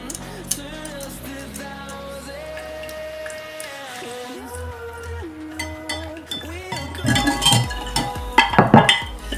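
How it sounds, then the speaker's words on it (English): Ingredients whisked together in a bowl for a honey glazed salmon recipe, the whisk clinking and scraping in quick bursts that grow louder toward the end over steady background music. "Just gonna whisk everything together now."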